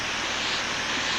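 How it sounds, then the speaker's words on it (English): Water rushing down a stream in a ravine beside a campsite on the Appalachian Trail, a dense, steady hiss with no breaks, fairly loud and heard alone. "probably can hear the water running in the background"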